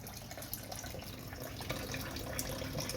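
Water runs steadily from a tap, a continuous splashing hiss with faint drips, fairly quiet throughout.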